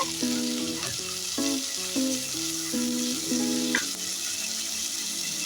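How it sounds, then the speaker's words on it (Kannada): Tomatoes and onion fry in a pan for tomato sambar, a close, steady sizzle and crackle with occasional stirring, heard under background music. "ಇದಕ್ಕೆ ಈಗ ಟೊಮೆಟೊ ಹಾಕೋತಾ ಇದ್ದೀನಿ ಟೊಮೆಟೊ ಫುಲ್ಲು ಪೂರ್ತಿ ಸಾಫ್ಟಾಗಿ ಬೇಯಬೇಕು ಇಲ್ಲಿವರೆಗೂ ಒಂಚೂರು ಫ್ರೈ ಮಾಡ್ಕೋಬೇಕು"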